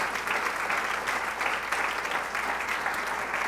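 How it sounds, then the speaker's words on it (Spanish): A church congregation at a Spanish-language sermon applauding, steady close clapping from many hands in a dense, even patter that continues throughout. "Dele un aplauso al Señor."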